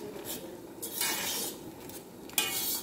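Cornmeal being stirred into boiled lentils in a pot, with scraping and clinking of a utensil against the pot in uneven strokes, close and fairly quiet, without talking.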